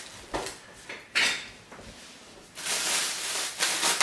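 Someone rummaging for a knife in a kitchen makes cutlery and dishes clatter close by in a few sharp rattling bursts, with a longer jangling stretch toward the end.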